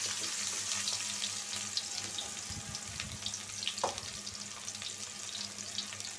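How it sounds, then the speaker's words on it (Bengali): Onions drop into hot oil in a home kitchen and sizzle steadily, a soft continuous frying hiss with a couple of light stirring clunks and a low hum underneath. "তেলটা গরম হয়ে গেছে, আমি দিয়ে দেব পেঁয়াজ,"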